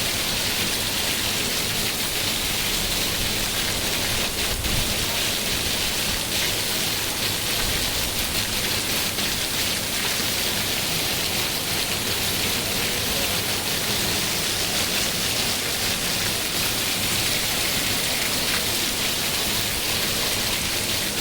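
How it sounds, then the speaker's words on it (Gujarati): Heavy rain pouring down continuously in Talaja, Gujarat, a loud, steady hiss of water striking surfaces with no pauses and no voices. "તળાજામાં વરસાદ શરૂ છે"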